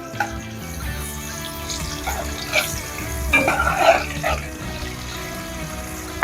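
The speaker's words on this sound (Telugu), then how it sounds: "ఆయిల్ కాగిన తర్వాత మసాలా కొంచెం ఫ్రై కాగానే ఆనియన్స్ వేస్తున్నా" Sliced onions dropped into hot oil with biryani masala sizzle and crackle steadily, with clattering and a brief burst of louder activity midway, all fairly close and without talk.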